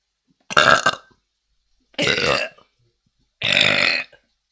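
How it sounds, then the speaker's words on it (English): Three long, loud, close burps from a person, each separated by about a second of silence. "Burping."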